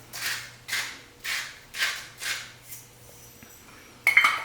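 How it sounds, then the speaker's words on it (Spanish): Spoon scraping and stirring in a pot of sauce thickened with butter and salt, five or six even, rhythmic swishing strokes at close range, then a sharper metallic clink of utensil against cookware at the end. "Vamos a estar revolviendo hasta que esto tenga consistencia como de una natilla suave"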